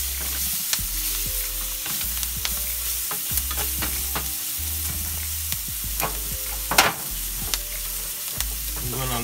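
Onions and scotch bonnet peppers sizzle and fry in a hot pot, a steady close crackling hiss broken by occasional stirring clunks and scrapes.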